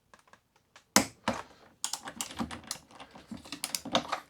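A torque wrench clicks as it tightens wheel bolts on an Inmotion V9 electric unicycle during a tire change: a few faint ticks, then a series of sharp, close clicks and ratcheting bursts.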